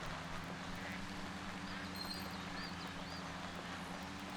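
Ducks quacking in the Duck Dynasty hunting video game, a few faint calls scattered over a steady bed of background noise.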